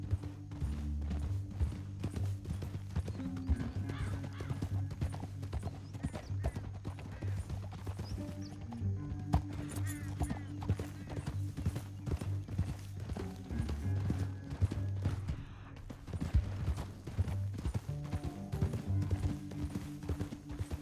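Horse hooves clip-clop steadily in the Red Dead Redemption video game, a continuous rhythmic trot under a loud, low musical or ambient bed, with an occasional faint whinny.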